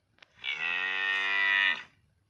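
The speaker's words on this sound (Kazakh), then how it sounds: "Қалай мөңіреп атсың?" A cow in the Minecraft video game gives one long, clear moo of about a second and a half, alone and without talk.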